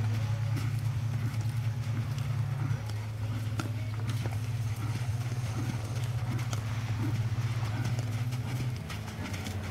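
A horse walks slowly under a rider, its hooves clip-clopping in a steady, close rhythm over a constant low hum, with faint voices now and then.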